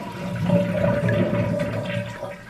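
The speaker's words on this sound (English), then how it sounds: "Now I'm going to flush this and you'll see why I'm not getting a full flush" A household toilet flushes with a faulty flapper that drops shut too early, giving a steady rushing, gurgling water sound that holds for a couple of seconds and then eases, close by and alone.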